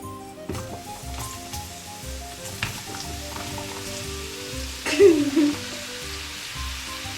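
Mushrooms frying in a pan with ginger, stirred now and then: a soft, steady sizzle with occasional scraping and clicking stir noises, growing briefly louder near the end.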